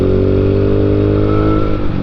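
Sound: Yamaha Mio Sporty 2013 motorcycle engine and exhaust running

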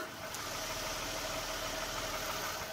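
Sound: Hyundai Equus 3.8 V6 engine idling

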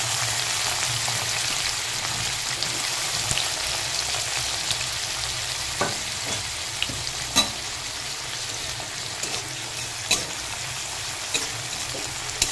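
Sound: chopped onions frying in oil

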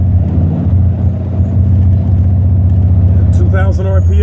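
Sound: 1987 Buick Regal-T 455 engine running at 2,000 RPM

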